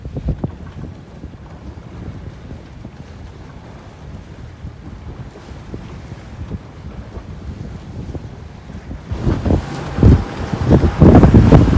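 A sailboat beating into a strong headwind on rough open sea between Georgetown, Exumas and Great Inagua, with loud gusting wind buffeting the microphone and low rumbling water, growing heavier and more turbulent toward the end; no talking.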